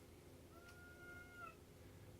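A pet cat gives a single drawn-out meow lasting about a second, fairly faint against a quiet indoor room.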